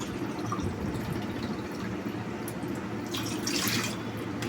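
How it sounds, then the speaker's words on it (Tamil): Water pours steadily into a cup of two-cup capacity in a home kitchen while making rose milk essence, a continuous close trickling splash with no talk. "இதுக்கு வந்து நான் இந்த கப்பில் வந்து 2 கப் தண்ணி ஊற்ற போகிறேன்."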